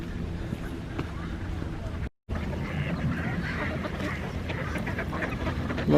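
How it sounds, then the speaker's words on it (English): Ducks quack and honk in a steady outdoor chorus on a lagoon, with wind and ambient noise, briefly cut by a short dropout. "Lots of ducks there, alright."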